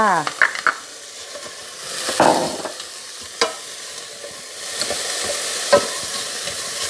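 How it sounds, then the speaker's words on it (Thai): Thai curry paste sizzling and being stirred in a hot pot, with scraping clinks of a utensil against the metal and a steady frying hiss. "ตั้งหม้อให้ร้อนนะคะ แล้วก็เอาเครื่องลงไปผัดค่ะ"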